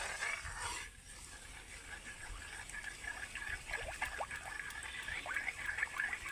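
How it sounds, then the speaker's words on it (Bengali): Powdered milk is stirred into water in a pot, producing faint, soft liquid swishing and trickling that continues quietly and close by, with no voices. "এবার আমি ভালো করে দুধটাকে জলের সাথে এইভাবে গুলে নেব"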